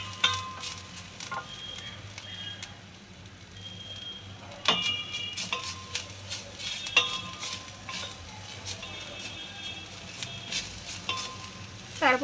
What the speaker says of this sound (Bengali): নারকেলটাকে একটু ভাজা ভাজা করে নিচ্ছি।